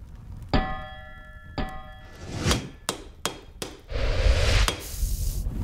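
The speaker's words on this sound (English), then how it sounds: "From there, it gets refined by hammering, so we force it into the shape we want it to be in." Sharp metallic hammer blows on a steel blade being forged, starting with two ringing clanging strikes and followed by a quicker series of duller, irregular whacks with some background rumble.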